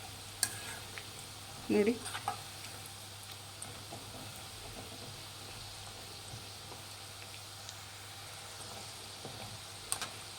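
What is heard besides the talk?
spicy masala peanuts frying in a pan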